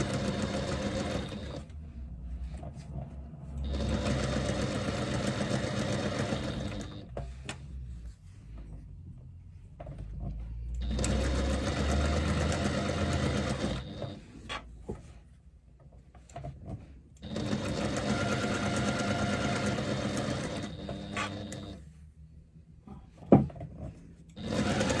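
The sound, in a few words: sewing machine stitching fabric piping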